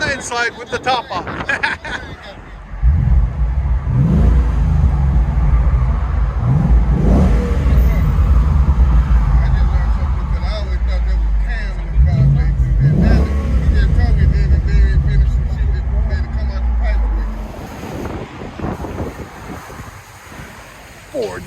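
A 2013 Ford Mustang GT with a 5.0L V8 and Flowmaster Flow FX exhaust rumbles and revs, heard from inside the cabin with the top on. Two strong throttle blips rise over a deep idle burble, and wind buffeting sounds throughout.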